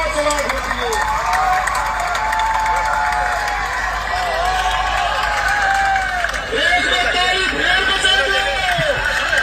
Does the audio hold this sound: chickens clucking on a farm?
no